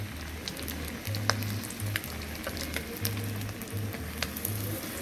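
Bream sizzling and frying in hot grease, a steady close crackle with scattered sharp pops and bubbling, no voices over it.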